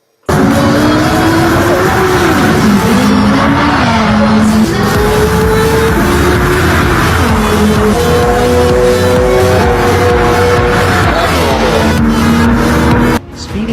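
Dodge SRT Tomahawk car accelerating hard and braking abruptly, a loud continuous engine roar rising and falling in pitch through gear changes, close and alone, cutting off sharply at the end.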